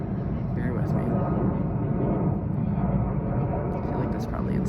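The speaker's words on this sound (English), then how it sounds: "Sorry guys, I don't know why there's literally so many airplanes right now." Airplanes flying over a park make a steady, loud low rumble that lasts throughout, with a person talking on top of it.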